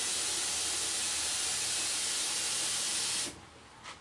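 Loud, steady rush of water running from a tap into a pot, a broad hiss that cuts off abruptly near the end.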